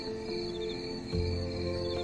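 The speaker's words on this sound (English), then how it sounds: "Crickets." Crickets chirp steadily in a high, continuous trill, with a low hum joining partway through.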